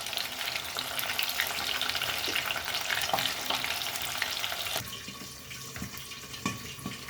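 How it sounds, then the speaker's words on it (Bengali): Fish fry in hot oil in a pan, giving a dense, steady sizzle. At about five seconds it turns quieter and more broken, with a few clinks and scrapes. "লাল লাল করে ভেজে নেবো মাছগুলো।"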